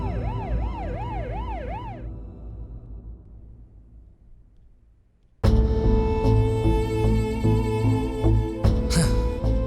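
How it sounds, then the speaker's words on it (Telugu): An ambulance siren wails in a rising and falling pattern for about two seconds, then fades. A loud engine-like rumble with broad noise and tonal hum cuts in abruptly and continues to the end. "అంబులెన్స్ వచ్చిందమ్మా"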